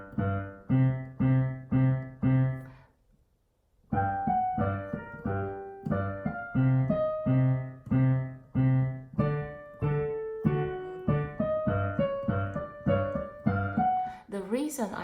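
Piano plays the Plants vs Zombies theme with a simplified left hand on single bass notes: a steady pulse of repeated chords, a brief pause, then a melodic line over the bass, clear and unaccompanied.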